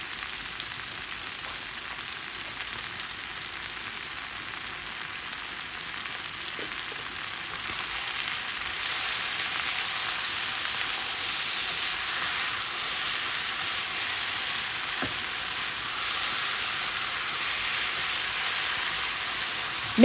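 Chicken noodles stir-frying with a few tablespoons of hoisin sauce added, giving a steady, close hiss and sizzle of frying throughout with occasional faint clinks of stirring, and no talking.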